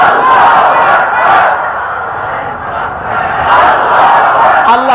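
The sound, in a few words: crowd answering the takbir slogan call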